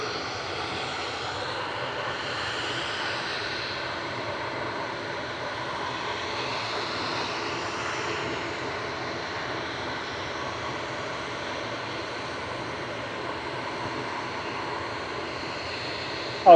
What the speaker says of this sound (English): We've had a series of noisy aircraft in front of us